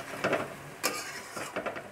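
Chowmein being fried and stirred in a pan, with turmeric added to the pan, heard as intermittent scraping and clinking stirring strokes over a faint sizzle, with one sharp metallic clatter in the middle, close up and with no talking.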